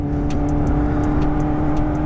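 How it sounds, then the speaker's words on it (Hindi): A Kawasaki ZX-10R motorcycle in sport mode pulls hard under acceleration, a loud sustained engine drone with steady harmonics and brief clicks or gear sounds on top, close to the rider. "अभी बाइक स्पोर्ट मोड पे और तगड़ा पिकअप मिल रहा है, मतलब बहुत ही तगड़ी रॉकेट की तरह उठ रही है बाइक"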